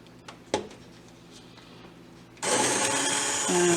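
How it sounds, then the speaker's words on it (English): A hand-held immersion blender starts up partway through, a loud, close steady whir churning beer cheese soup after a few quiet knocks and clatters, its pitch shifting slightly near the end. "Okay, I'm going to use my immersion blender."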